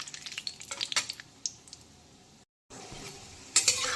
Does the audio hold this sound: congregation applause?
no